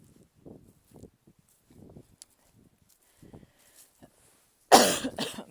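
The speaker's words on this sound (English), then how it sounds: "I'm sorry, I'm sort of coughing right into the microphone." A woman on a walk coughs right into the microphone, one loud, close burst near the end after quiet footsteps and faint soft sounds outdoors.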